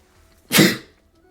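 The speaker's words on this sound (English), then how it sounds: "Sorry, sneeze came in." A single sharp sneeze bursts out of near silence, loud and close, fading quickly after about half a second.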